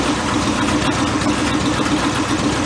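A 1965 Mercury truck engine idles steadily on its own with a dense, even rumble that holds without change throughout.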